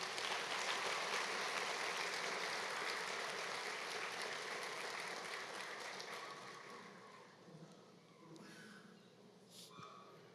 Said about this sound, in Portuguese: Podemos aplaudir o Rei dos Reis?